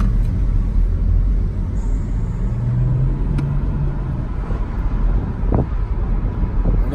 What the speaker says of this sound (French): On entend le turbo qui redescend